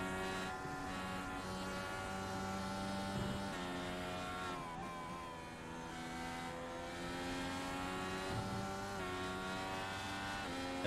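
A race car engine from a racing video game, lapping Watkins Glen at a steady, loud, harmonic drone, with pitch dips and climbs as the throttle rolls off and back on through gear changes.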